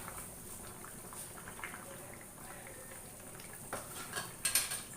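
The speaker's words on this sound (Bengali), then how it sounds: "মাছ 2 টুকরো দিয়ে এবার আমি আবারও কিছু সময় নেড়ে চেড়ে দিচ্ছি।" Koi fish pieces are stirred through a pan of potato-and-bean curry: soft scraping and light metal clinks of a spoon against the pan, quiet and close, with a few sharper taps near the end and no talking.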